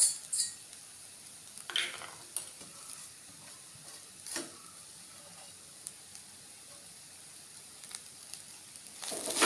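A ground tuna mixture for choora thoran is stirred in a pan, with faint soft scraping and a few sharper utensil clinks over a low background hiss.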